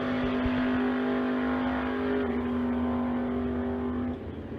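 An S10 and a Nova launch side by side in a street-legal drag race at Mission Raceway, giving a loud, sustained engine roar with a steady droning tone that fades slightly toward the end.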